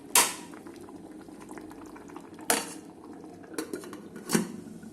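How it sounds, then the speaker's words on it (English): Veg pulao bubbles at a steady boil in an electric kettle, a close, continuous simmer with a few sharp clinks of a utensil against the pot. "as you can see, it started boiling"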